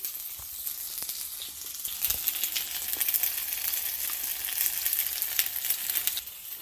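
Cheesy potato patties fry in a pan, some made in bacon grease, with a continuous crackling sizzle and scattered sharp pops throughout, close and fairly loud, with no talk.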